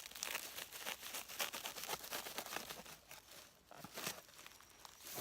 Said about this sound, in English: If I just grab my knife now, work out where the bulk of the material is, and I just want to trim that off